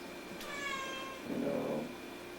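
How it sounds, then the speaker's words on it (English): A house cat meows during a spiritual satsang gathering, two drawn-out, moderately close calls over a quiet room background. "our cats want to be in the satsang too"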